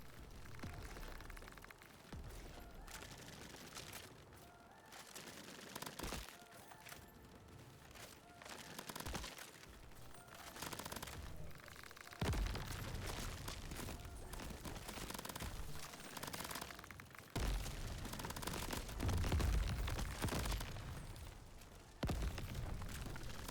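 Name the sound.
rapid gunfire mag dump in video game Qrab Champions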